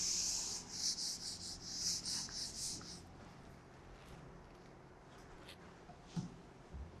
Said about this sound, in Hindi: इसको रब कर देते हैं, थोड़ी जगह मिल जाएगी हमें